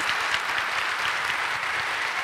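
Loud, continuous clapping from a live audience at a tabletop role-playing game show, a dense even patter that holds at steady volume throughout without letting up.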